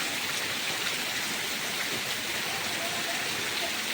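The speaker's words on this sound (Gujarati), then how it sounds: "ને મિત્રો જોરદાર વરસાદ આવવા મળ્યો છે." A downpour of heavy monsoon rain on a farm, with runoff streaming from the roof edge and fields, forms a constant, loud wash of drops that stays level throughout with no voices.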